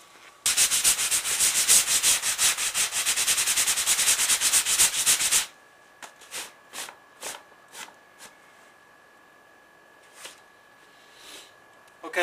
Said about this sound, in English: touched it up with a little bit of coarse sandpaper